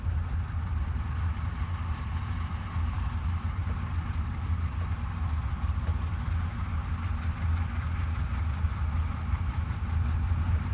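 Chessie U30C diesel locomotive climbing a grade in Train Simulator, a steady loud low engine drone with continuous rumble, no talk.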